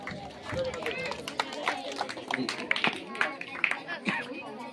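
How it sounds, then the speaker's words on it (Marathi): Students clapping at an essay-competition prize ceremony in Fatehpur, a dense, steady patter of many hands with crowd murmur mixed in, fairly close and continuous throughout. "सर्वांनी तर जोरदार टाळ्या वाजवायच्या विद्यार्थ्यांनी।"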